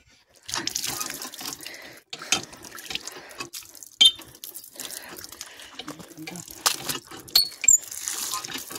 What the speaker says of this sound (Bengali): কলটা একটু চেপে দিই, চেপে বলতে পাম্প করে দিই।